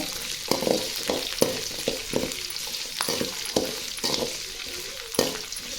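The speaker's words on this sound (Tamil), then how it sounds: "நல்லா வதக்கி விட்டுக்கோங்க" Garlic and onions sautéing in a pan for a Tamil vallarai keerai dish, a steady close sizzle broken by repeated scraping stirs roughly every second.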